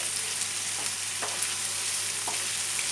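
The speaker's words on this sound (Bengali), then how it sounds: "অল্প সময় এগুলো একটু নাড়াচাড়া করে ভেজে নিতে হবে।" Prawns stir-frying with garlic and chopped green chili in a pan, giving a steady close hiss and sizzle with a few faint stirring scrapes throughout.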